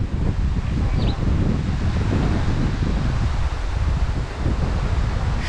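Outdoor wind buffets the microphone in a constant low roar at Ruposhi waterfall in Sitakunda, Chattogram, with faint rustling underneath and no speech.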